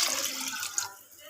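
Water splashes into a cooking pot as more is added to a home-cooked soup, a brief gushing pour that cuts off near the end, fairly soft and close.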